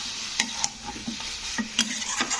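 Diced potatoes are sautéed and stirred in a pan for a radish curry. A soft steady sizzle runs underneath while a spatula scrapes and clicks against the pan every half second or so.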